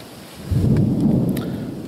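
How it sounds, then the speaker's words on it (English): Thunderstorm with rain in Michigan's Upper Peninsula: a low rumble of thunder swells in after half a second over the steady patter of rainfall, fairly loud and close, with no voices. "We've got a heck of a storm coming."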